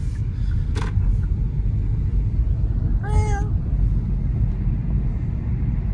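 A single short cat meow rises clearly above a constant low rumble of vehicle and engine noise.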